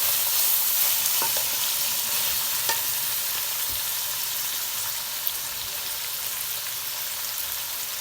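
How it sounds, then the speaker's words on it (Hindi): Minced meat (keema) frying in a pan with capsicum to follow, for a Lahori-style dish: a continuous loud sizzle with occasional scraping clicks of a spoon stirring, steady and close, no talk. "ये देखिए अब हमारा कीमा बहुत अच्छी तरह भून रहा है।"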